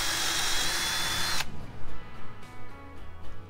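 A power drill whirs loudly and steadily for over a second while building shelves inside a Ford Transit van, then cuts off, leaving low room noise with faint knocks and shuffling.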